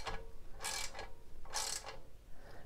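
Two short ratcheting bursts tighten bolts on a slip-on exhaust of a 2019 Harley-Davidson Road King, close and crisp, separated by a brief pause over quiet background.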